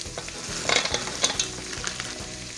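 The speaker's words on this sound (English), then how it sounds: "And we're just going to mix those together" Corn and lima beans being stirred in a hot pot with browning garlic, scraping and clinking utensil strokes over a steady sizzle, close and moderately loud with no talking.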